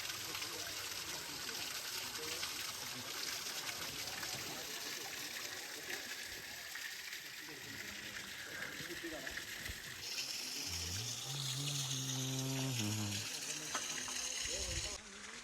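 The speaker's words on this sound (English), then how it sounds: "This is natural waterfall is getting created here" Natural waterfall on the Srisailam hill path, a steady broadband rush of flowing water throughout, with people talking over it and a low engine-like drone near the end.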